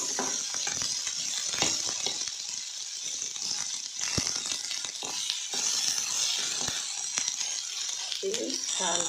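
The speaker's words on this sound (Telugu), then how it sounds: "నూనెలో మగ్గాలండి ముక్క" Chopped okra pieces sizzle steadily in hot oil while being cooked for bendakaya pachadi, with scattered clicks and clatters of a spoon stirring against the pan throughout.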